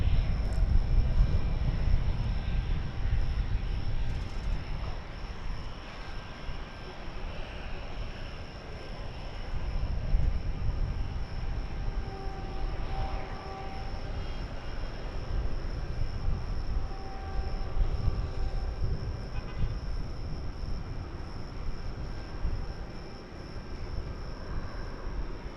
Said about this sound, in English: I think we have a plane that's getting ready to take off over here